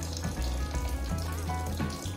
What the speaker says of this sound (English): Temporarily, I am collecting the purified water in this glass.